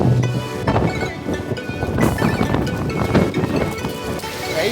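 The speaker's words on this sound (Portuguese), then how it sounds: "Dá pra ver que o vento já tá forte." Strong wind buffets a boat at its mooring in Guanabara Bay, a loud continuous roar with gusty rushes, knocks and splashing close to the microphone, no talking.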